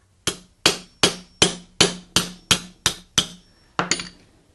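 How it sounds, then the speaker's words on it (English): About nine sharp metallic taps from a small hammer striking a roll pin punch on a Crosman 1400 air rifle pump linkage, each ringing briefly, spaced evenly and close, with a short pause before the last two. "we'll get the little hammer, not the big hammer, and see what kind of damage we can do here"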